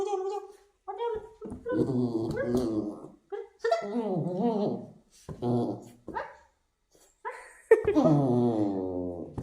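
A dog whimpers in drawn-out whines and yips, then lets out sharp barks, close and loud, with pauses between the bursts.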